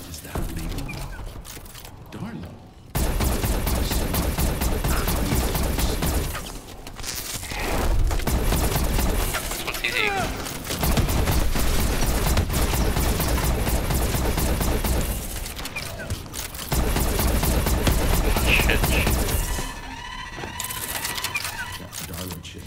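Gunfire in the Exo Zombies Carrier map, long bursts of rapid automatic fire broken by short pauses, loud and close, with game music and effects layered through it.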